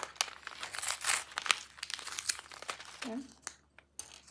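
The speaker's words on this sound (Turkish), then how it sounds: "Şimdi dördüncü paket açacağım." A plastic bag of Lego parts is torn open and crinkled by hand, giving close, brisk rustling and crackling bursts for several seconds, with a short voiced sound near the end.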